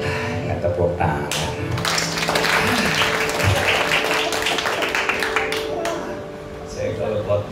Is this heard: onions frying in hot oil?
no